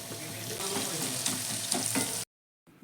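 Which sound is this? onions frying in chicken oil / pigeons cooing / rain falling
onions frying in chicken oil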